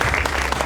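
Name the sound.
audience applause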